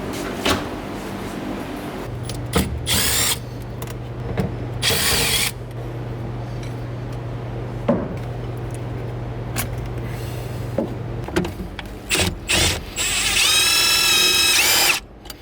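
A power drill backs bolts out of a Mazda Miata shifter plate, with repeated whirring runs of varied length, ratchet-like clicks and clunks, and a loud sustained burst near the end, all close up.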